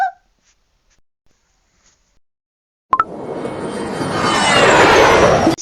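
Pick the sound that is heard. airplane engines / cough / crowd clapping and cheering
airplane engines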